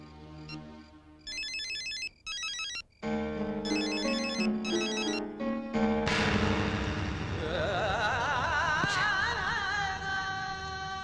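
A phone ringtone plays, starting with bright beeping bursts in short groups, then shifting into a louder, continuous melodic ring that fills the rest.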